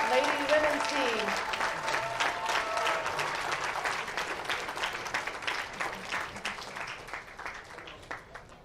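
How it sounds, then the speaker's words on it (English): Crowd applause at the 2019 U.S. Amateur Championships bowling stepladder finals, honoring the Team USA women's squad, a steady dense clapping that slowly fades, with an announcer's voice briefly heard over it at the start. "a big round of applause for your 2019 Team USA Lady Women's Team"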